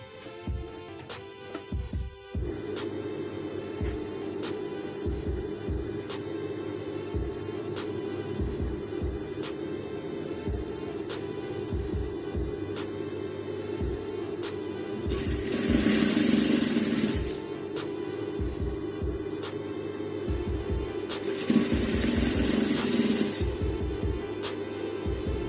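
A sewing machine stitches fabric for an off-shoulder princess bustier gown. It gives a steady motor hum with fast, even ticking, and two louder, harsher bursts of quicker stitching come near the end. No one speaks.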